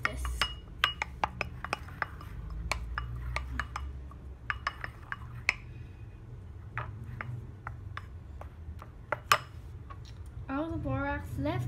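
Borax being stirred into slime in a bowl, with many sharp clinks and taps of a utensil against the bowl scattered irregularly over a quiet background; a voice speaks briefly near the end.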